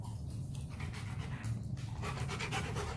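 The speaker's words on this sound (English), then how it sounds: "This is a happy dog now" A two-year-old German shepherd pants rapidly and steadily after playing ball, its quick breathy huffs close and continuous, with no talking.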